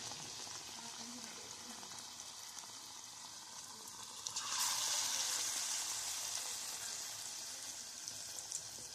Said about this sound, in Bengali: তেলটা গরম হয়ে গেলে যে ব্যাটারে কুমড়োগুলো চুবিয়ে নিয়ে কড়াইয়ের মধ্যে দিয়ে দেবো